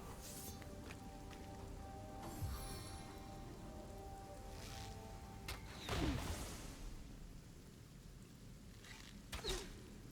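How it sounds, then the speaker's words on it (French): Rain falling in the video game Divinity: Original Sin, a soft steady patter beneath quiet game ambience, broken by a few sharp whooshing swishes. "Ah il pleut hein"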